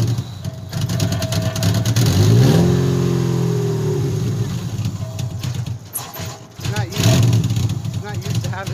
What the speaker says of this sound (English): This is like the worst that this car has sounded.